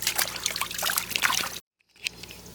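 Water pours and trickles steadily outdoors during a dog's bath, a close splashing stream that cuts off abruptly, then leaves faint dribbles and one small splash.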